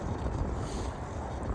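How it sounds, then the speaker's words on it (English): Wind buffets the microphone in a loud, rumbling roar, a constant low blustering with no voices. "I'm gonna wait for days where it's not as windy because I don't want to fight with the wind"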